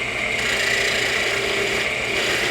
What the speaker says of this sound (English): This wood's pretty soft, so let me smooth it out with the skew a little bit.